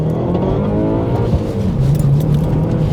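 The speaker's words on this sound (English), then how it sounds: "it's a real interesting sound too, where you can kind of tell it's a flat 4" A Subaru Legacy's flat-four engine pulls hard under acceleration, a loud, steady, throbbing drone with a rising note heard from inside the car, with no voices over it.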